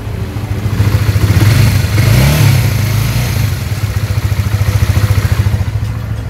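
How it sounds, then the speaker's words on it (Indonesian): A Honda CBR 150 motorcycle engine idles close by with a steady, even pulsing rumble and light mechanical clatter, a brief rise in revs early on, no talking. "jadi kalau kalian mau dengerin suara mesinnya,"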